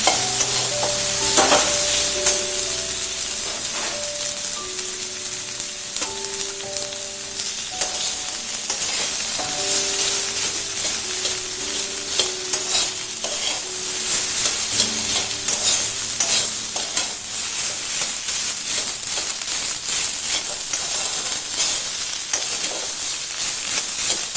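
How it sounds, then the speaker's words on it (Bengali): Vada pav filling is stirred and mixed in a frying pan, a steady sizzle under constant scraping and tapping of a utensil against the pan. The sound is close, dense and continuous, with faint tonal music in the background and no talk. "ভালোভাবে মিশিয়ে নিতে হবে।"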